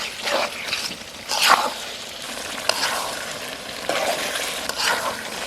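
Duck meat being stirred and sautéed in a hot pan for a Bengali duck curry, with a steady sizzle and repeated scraping stirs at an even pace, close and alone without talk.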